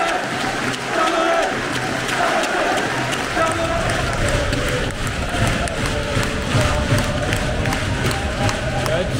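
Stadium crowd at a Stade Brestois–FC Lorient derby applauds and cheers a red-carded player leaving the pitch, a loud continuous roar with scattered claps while a commentator talks over it.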